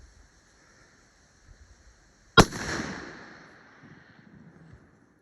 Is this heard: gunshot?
yes